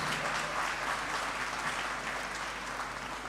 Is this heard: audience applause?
yes